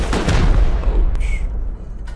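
Automated turrets firing in Rust, a loud close burst of gunfire that fades into a decaying echo, with faint further shots in the distance.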